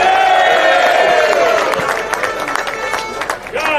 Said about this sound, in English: Please give a big round of applause to our good friend, James Harvey